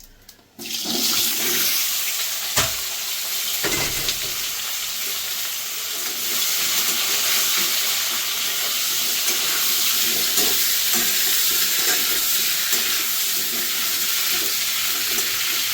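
Raw green banana and potato pieces hit hot oil with cumin tempering in a kitchen pan, bursting into a loud, dense, continuous sizzle after a brief quiet start, with a couple of clanks early on and no voices.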